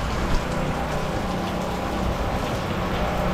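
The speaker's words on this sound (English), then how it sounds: "Boy, it's raining and there's water everywhere here." Rain pours steadily inside a water-soaked abandoned hospital at Clark Air Base, a loud, dense, unbroken hiss with no gaps.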